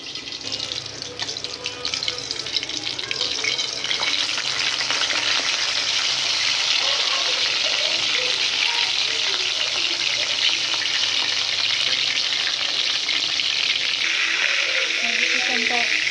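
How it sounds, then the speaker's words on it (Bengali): Chicken pieces fry in hot oil in a home kitchen pan, giving a steady, dense sizzle that runs unbroken and fairly loud, with faint stirring and scraping underneath and no voices. "গরুর মাংস থেকেও মুরগির মাংসটা একটু ভালোভাবে ভাজতে হয়।"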